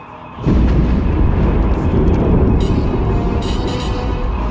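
Starship omni cannons fire in Star Wars: The Old Republic, a sudden loud blast that swells into a sustained, rumbling barrage with crackling, hissing bursts layered on top, close and heavy throughout.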